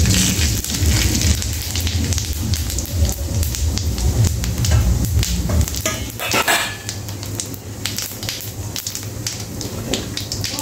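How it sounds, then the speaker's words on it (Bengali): Whole cumin seeds tossed into hot oil left over from frying fish. They crackle and sizzle steadily and loudly up close, with brief bursts of sharper spitting and the scrape of stirring through the whole stretch. "মাছ ভাজার তেলে আমি দিয়ে দিব গোটা জিরে,"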